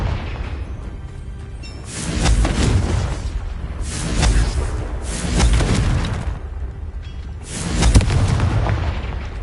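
Spell-cast explosions in a Harry Potter–style video game, three or four booming blasts with whooshing tails recurring roughly every two seconds, loud and close with no talk over them.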